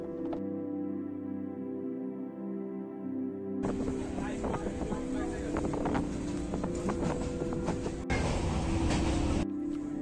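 Darjeeling Mail (train 12343) running out of Kolkata as it gathers speed, a steady rumbling roar with rattling bursts that swells louder partway through and stays continuous near the microphone.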